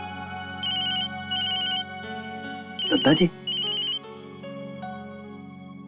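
A telephone rings with an electronic ringtone in a home, sounding in short repeated tonal bursts with brief gaps between them, while a voice speaks briefly over the ringing midway.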